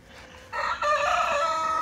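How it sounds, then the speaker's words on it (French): A Bourbonnais rooster crows loudly and close by in a pen shared with eight hens, the call rising sharply and holding through to the end. "il y a 8 poules bourbonnaises dans ce parc avec le coq"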